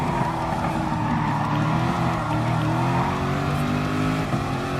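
Race car in Gran Turismo Sport on the Kyoto circuit, engine droning steadily with shifting pitch and tire squeal mixed in, loud and continuous with no talk.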